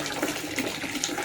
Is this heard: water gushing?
yes